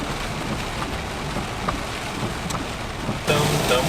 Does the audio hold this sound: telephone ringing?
no